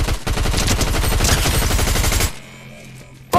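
Loud, rapid automatic gunfire in Fortnite Battle Royale, a dense sustained burst of shots that stops abruptly, leaving brief quiet game ambience before another sound cuts in.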